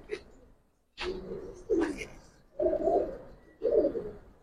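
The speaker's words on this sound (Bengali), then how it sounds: "এটা একটা মাদি কবুতর" A female Giribaz pigeon coos in a series of low, throaty calls, about four separate bursts with short pauses between them, close and clear.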